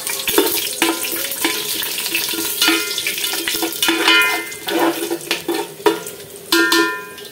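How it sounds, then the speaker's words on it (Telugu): Whole garam masala spices frying in hot ghee for biryani, the oil crackling and popping in sharp irregular bursts over a steady sizzle, close and loud, with no talking. "బిర్యానీ చేస్తున్నప్పుడు ఆయిల్ పేలుతుందండి, జాగ్రత్త అండి."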